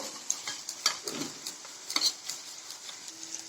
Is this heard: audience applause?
no